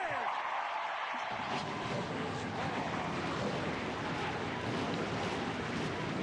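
Several race car engines fire up together in a sim racing game at Langley Speedway, a dense, loud roar that cuts in abruptly after a second of quieter sound and holds steady throughout.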